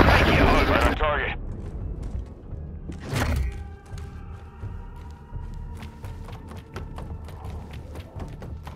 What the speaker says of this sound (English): Request an airstrike at this location. Trojan 6-2, cruise missile away.